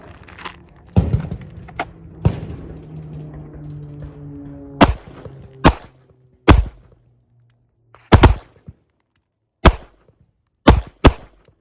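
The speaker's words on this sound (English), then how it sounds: "Just get your gun out there, line your sights up, and try to get all 5 rounds on the number 1." Handgun shots fired at a target on a range: about ten sharp, loud reports spaced a second or so apart, the first few over a low hum, the rest crisp against near silence.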